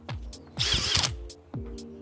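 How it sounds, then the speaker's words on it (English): A power drill with a shortened bit bores into a log for shiitake mushroom dowels, whirring loudly in one sustained burst of about half a second, with softer knocks and handling sounds before and after. "let's get drilling"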